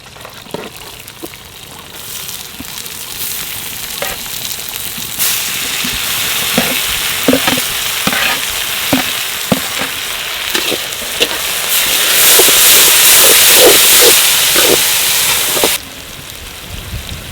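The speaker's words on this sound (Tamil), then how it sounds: "அடுத்தது நறுக்கின பெரிய வெங்காயத்தை போட போகிறோம்." Chopped big onions frying in a pan, with a steady loud sizzle broken by stirring scrapes and clacks; the sizzle swells noticeably louder toward the end before easing off.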